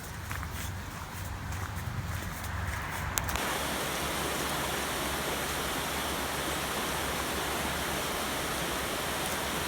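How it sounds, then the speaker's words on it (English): Rushing flow of the River Towy near Llyn y Fan Fawr fills the air as steady, close broadband water noise, following a few seconds of quieter outdoor sound along a hillside path. "And that's the River Towie."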